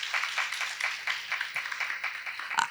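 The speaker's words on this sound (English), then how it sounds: "can we get another round of applause for all of these people who have worked so hard building this database?" Summit audience applause, a fairly faint, steady patter of many hands clapping for a few seconds with no talk over it.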